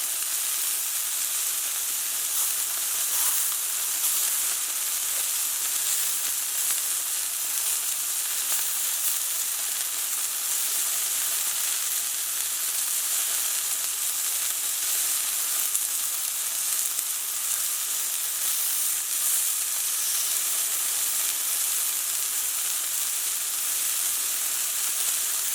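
Blue Apron sesame chicken frying in a hot pan, a steady close sizzle and hiss running without pause and at an even level throughout, with no talking.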